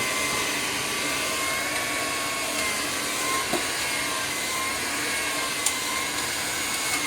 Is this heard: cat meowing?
no